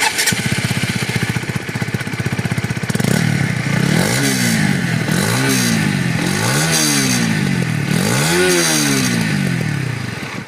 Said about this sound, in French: je vais te faire écouter le bruit d'origine afin que tu puisses te faire une idée au réel de la moto